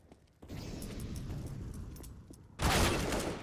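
Stacked grenades go off in a Counter-Strike match, a rumbling layered blast followed by a second louder, sharper explosion near the end, with scattered crackling and game noise between.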